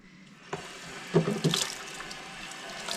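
Hummingbird feeder being scrubbed with a sponge and dish soap in a kitchen sink, with tap water running steadily and a few louder scrubbing rubs near the middle.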